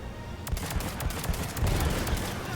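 Rapid bursts of in-game gunfire aimed at a generator in Mass Effect 3, dense and continuous over a busy battle din with repeated sharp cracks throughout.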